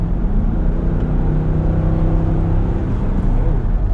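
A 2011 Infiniti QX56 with its 5.6-liter engine accelerates while the transmission drops a gear, giving a loud, steady engine drone that climbs in pitch, heard up close from inside the cabin with no talking.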